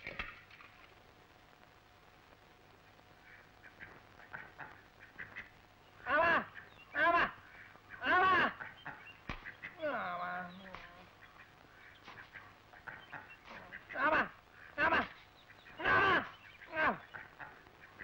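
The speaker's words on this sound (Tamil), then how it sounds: "அது வாத்துங்க" Ducks quack in a series of loud, clear calls, several close bursts in an uneven rhythm over a quiet background, with a voice breaking in briefly between them.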